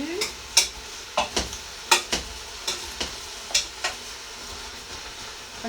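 A coconut-wood spatula stirs cabbage soup in a pot, making about a dozen sharp scraping knocks at an uneven rhythm over a low simmering hiss, close by with no talking.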